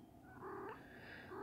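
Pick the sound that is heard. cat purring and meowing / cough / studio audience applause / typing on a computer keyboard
cat purring and meowing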